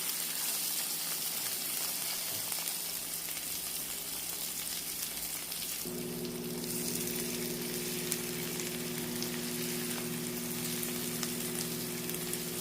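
Eggs frying in a very hot pan, a dense continuous sizzle and crackle heard up close, rising with a steady hum partway through, no voices.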